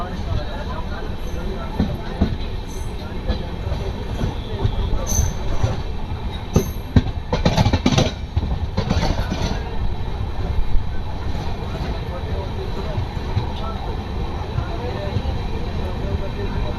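The Bareilly-Prayagraj Sangam Express, an LHB-coach train, departs Pitambarpur with continuous rolling rumble and wheel noise, some squealing and clattering bursts midway, heard from inside the coach at moderate steady loudness.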